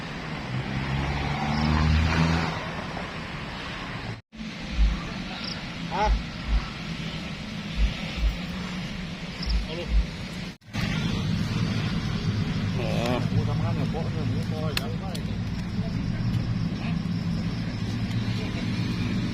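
A car engine hums steadily from inside the vehicle as it drives, with road rumble throughout and people talking over it.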